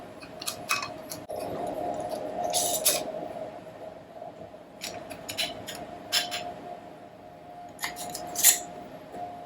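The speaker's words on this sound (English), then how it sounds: "you're going to put the jar lid on and just finger tighten" A metal lid being screwed onto a glass canning jar of sauerkraut, several short scraping clicks and twists in bursts over a faint steady hum.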